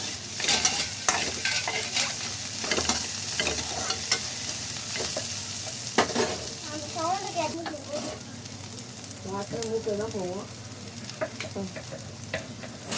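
A single small onion sautéing in a pan for a peanut and cluster bean stir-fry, with a steady sizzle and frequent scraping, stirring clatter from a spoon, a few brief squeaky tones, no talking.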